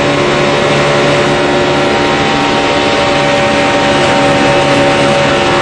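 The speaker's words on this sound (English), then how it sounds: "you could hear how Jimmy had to back out right there as they got there because the 43 came up" Stock car engines racing at Talladega in the 2011 NASCAR Good Sam Club 500, a loud, continuous roar of several cars with steady engine drone and no gaps.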